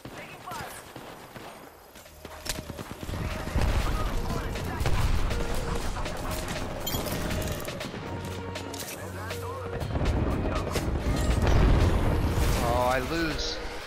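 Gunfire in the Apex Legends video game comes as dense bursts of shots and heavy booming impacts, loud and layered over game effects, with people talking throughout.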